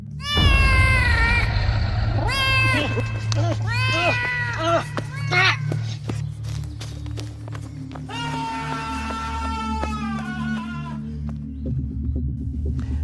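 A large black cat meows repeatedly, loud and close, several drawn-out wailing cries over a low steady hum, with a pause in the middle before another long run of meows.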